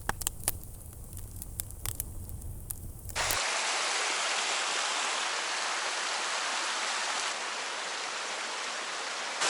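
A mountain stream flows steadily on the trek from Tusheti to Khevsureti, a close, continuous broadband rush after a few seconds of quieter outdoor sounds with light clicks.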